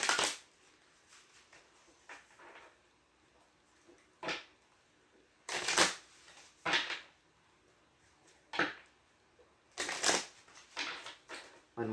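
Tarot cards are shuffled in several quick riffling bursts separated by quiet pauses, close and fairly soft.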